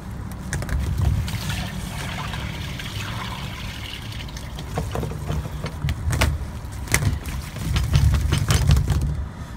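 Waste rushes out of an RV black tank once its gate valve is pulled, a continuous gurgling flow of liquid through the drain hose, close and fairly loud with surging pulses and no talking.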